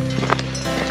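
Cows passing on a mountain trail during a descent of the Wendelstein, hooves clip-clopping in a brief, close, irregular series with soft shuffling, no voices.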